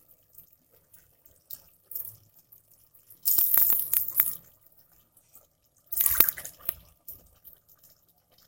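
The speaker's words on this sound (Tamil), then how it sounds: "அரிசிக்கு தேவையான அளவுக்கு தண்ணி ஆட் பண்ணிக்கலாம்." Water is poured onto rice in a pot while making mushroom pulao. Two short bursts of splashing, gushing liquid stand out clearly against near silence, with faint drips and small clinks between them.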